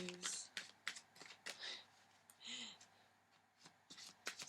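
Tarot cards are shuffled by hand at close range in a quiet room, crisp riffling bursts and papery slaps repeating irregularly, with a voice speaking softly between them.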